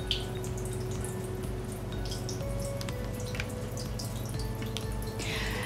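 A small indoor decorative waterfall beside houseplants trickles continuously, with a steady, close splashing and dripping and no one talking.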